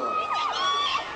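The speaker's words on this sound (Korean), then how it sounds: "팬들의 함성 이어졌습니다" Fans at a K-pop Dream Concert in 2010 scream and cheer in a dense, high-pitched roar that holds steady throughout, with a few sharp shrieks rising above the crowd.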